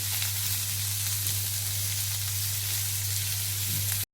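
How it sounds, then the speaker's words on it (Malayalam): Chopped onion and garlic sauté in a pan with a constant, even hiss and a low steady hum beneath, close and uninterrupted until it stops at the end. "നമ്മൾ അരിഞ്ഞു വെച്ച ഉള്ളിയും വെളുത്തുള്ളിയും നമുക്ക് ഒരു പാനിലേക്ക് ഇടാം. ഇനി നമുക്ക് ഇതൊന്ന് വാട്ടിയെടുക്കാം."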